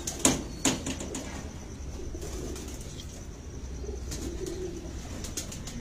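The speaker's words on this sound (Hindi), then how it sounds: "एक लालपुरी कबूतर है जी" A Lalpari pigeon flaps its wings sharply twice at close range, then coos softly and steadily, with light rustling in the background and no talking.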